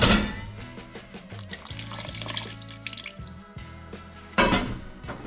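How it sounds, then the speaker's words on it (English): Water pours steadily into a pot of carrot soup, a continuous splashing trickle with small clinks and bubbling, close up and without talk, ending in a louder splash. "We're gonna have to add a little bit of water too."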